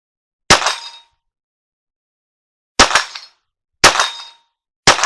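A Colt 1911 in .22 caliber fires four loud, sharp shots, a single report followed after a pause by three more in a loose rhythm, each a crisp crack with a short decay, close and isolated.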